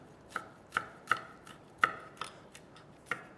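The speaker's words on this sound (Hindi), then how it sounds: "बस उन दोनों को पतला पतला पतला पतला काटना है" Fresh basil or mint sliced thin with a knife on a board, about eight crisp, evenly spaced chops, close and clean with no talking.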